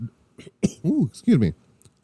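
A man coughs and clears his throat in a couple of short, rough bursts, close to the microphone, with brief voiced sounds between them.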